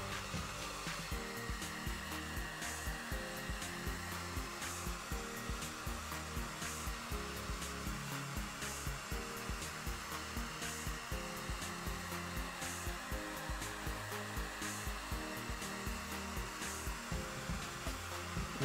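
A heat gun blows steadily and close by while warming vinyl carbon wrap film on an Xbox One console, a continuous loud whooshing hum with a faint rhythmic flutter that runs unbroken throughout.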